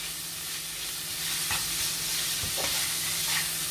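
Onion and cabbage frying in a pan as they are stirred, a bright constant hiss with a few soft scraping knocks of the spoon, no voices.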